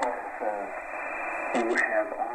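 Shortwave radio static and interference hiss on a Tecsun receiver in upper sideband mode, a steady noisy wash with a narrator talking over it throughout.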